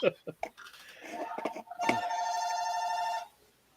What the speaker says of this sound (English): Is that his phone or your phone? the phone here.